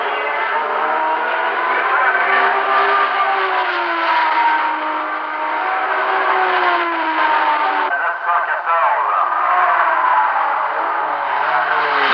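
Race car engines howl and shift in pitch at the 1971 24 Hours of Le Mans on the Sarthe circuit, a sustained band-limited roar that rises and falls as cars pass, continuous throughout with no break.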